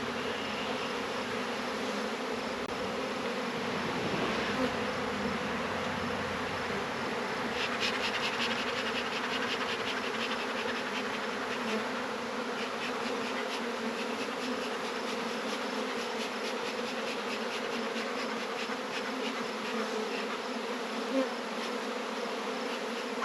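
A dense swarm of honeybees hums steadily around a crowded nuc hive during a hive split, a continuous close drone with no talk.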